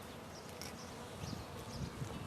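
Honey bees from a newly installed package buzz softly around a hive, a faint, wavering insect drone with scattered louder passes nearby.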